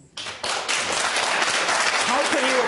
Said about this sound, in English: How can you applaud that?